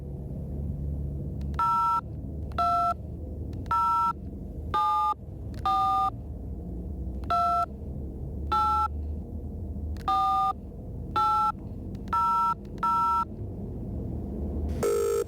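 Phone number dialed in a point-and-click investigation game, a series of about a dozen short electronic tones at irregular intervals over a low steady background rumble.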